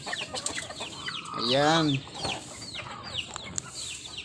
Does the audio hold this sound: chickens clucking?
yes